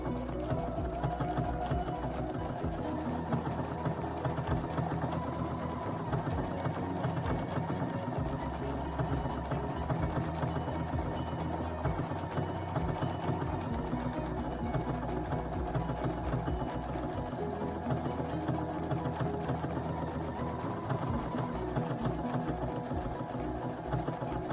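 A Viking sewing machine embroidering, its fast steady mechanical whir and needle chatter running loud and continuous from start to finish with no pauses.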